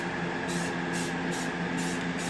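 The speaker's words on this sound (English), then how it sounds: "The metallic spray paint comes out a lot thicker with a wider pattern and stuff" Smoke metallic spray paint hissing onto 26-inch chrome wheels in steady repeated bursts, loud and near over a constant droning hum.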